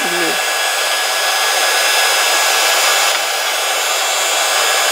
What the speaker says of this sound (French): je range tout le temps que mon pistolet chauffe